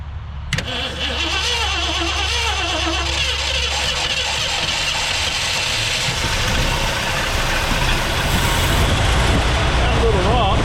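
A 1967 Ford Galaxie 500 with a bent push rod and poor spark is cranked over and fires, its engine running loud and close, rough and steady for several seconds.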